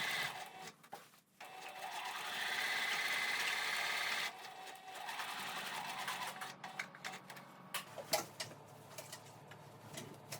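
Sewing machine running a long stitch length while altering a suit, a steady close mechanical whir with rapid needle ticking, starting and stopping in bursts before one sustained run and a few softer clicks afterward.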